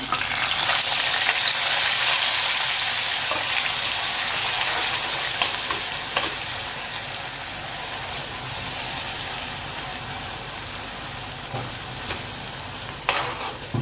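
Ground masala paste goes into a hot pan and fries with a continuous, close sizzle, loudest at first and easing slightly, with faint stirring clicks and no voices.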